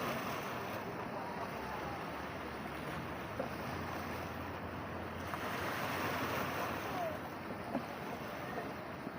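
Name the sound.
ocean waves at a beach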